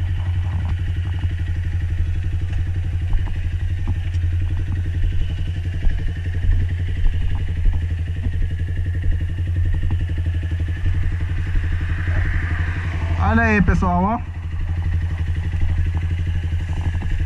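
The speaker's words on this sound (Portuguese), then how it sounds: "Aqui, pessoal, pra vocês verem como é que ficou na moto o escape." A Honda Fan 150 motorcycle fitted with a new Coyote dual exhaust idles nearby with a steady, low, throbbing engine note. Someone speaks briefly over it, and a short chirping sweep rises near the end.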